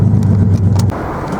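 Low, heavy engine rumble from a 1979 Datsun 280ZX with new headers and an upgraded exhaust, loud and close for about a second before it drops to a quieter idle.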